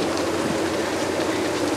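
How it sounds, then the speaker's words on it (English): Heavy rain pours down steadily in the Bahamas at Fiddle Cay, a dense continuous hiss with no pauses and no talk. "it is pouring rain."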